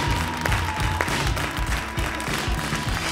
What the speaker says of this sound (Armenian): սիրելիներ, բարձր ծափարենք